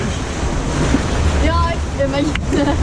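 Waterfalls on the Jungle Adventure water ride at the Energylandia theme park give a loud, steady rushing roar of falling water that fills the whole stretch, with faint voices briefly audible in the background.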